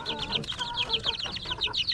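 Black Australorp chickens clucking in a flock, with repeated short bright clucks and calls from several birds close by, an irregular chattering rhythm over light background noise.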